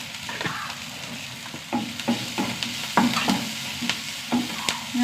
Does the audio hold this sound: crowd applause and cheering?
no